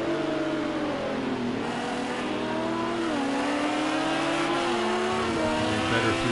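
A race car engine in Project Cars 2 drones at sustained high revs during a 90-minute endurance race at Dubai, pitch rising and falling through gear changes, steady and fairly close with other cars' engines mixed in.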